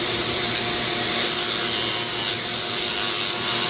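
A Dremel rotary tool with a 40-grit sanding attachment grinds into padauk wood while carving a ring, a steady, loud, close abrasive whir that runs without a break.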